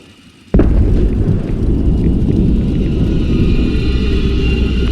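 A video game explosion erupts suddenly with a sharp onset, then a loud, sustained rumbling roar that fills the rest of the moment without easing.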